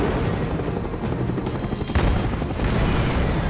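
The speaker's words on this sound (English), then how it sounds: "finding a locked and loaded Strela launcher to take down the helicopters" In the Call of Duty: Black Ops video game, helicopters thrum overhead amid battle as a Strela launcher fires, with a steady rotor drone, a loud boom near the middle and scattered gunfire, no talk.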